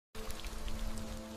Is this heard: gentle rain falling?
yes